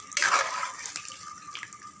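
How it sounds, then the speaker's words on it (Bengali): Water splashes into a cooking pan for green banana (kanchkola) kofta curry: a short, close pour at the start that thins into a fading trickle, with no other sound. "এখন দিয়ে দেব পরিমাণ মতো জল"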